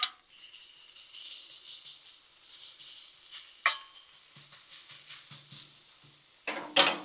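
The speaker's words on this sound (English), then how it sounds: "I don't know if there's a better sound or smell in this world than some bacon on that Blackstone" Bacon sizzles on a Blackstone griddle with a soft, steady hiss, broken by a few sharp metallic scrapes and clinks of a utensil against the flat-top surface.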